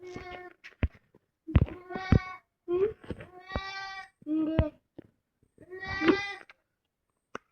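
A young goat bleats close by in a series of short, wavering cries separated by brief pauses, with about eight calls spread irregularly across the stretch.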